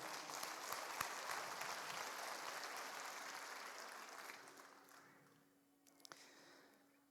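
A church congregation claps in praise during a Spanish-language sermon, a broad, steady wash of applause that slowly fades toward the end, leaving a faint hum.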